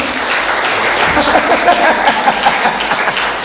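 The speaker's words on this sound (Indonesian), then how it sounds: "Berikan tepuk tangan buat Tuhan." A church congregation applauds loudly during a revival service, a thick continuous roar of clapping filling the hall, with faint voices mixed underneath.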